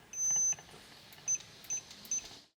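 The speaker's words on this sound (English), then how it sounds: "There's startup beep, speed change beeps, warning beeps." A walking pad treadmill gives a longer high beep followed by three short beeps, sharp and close, over a low mechanical hum.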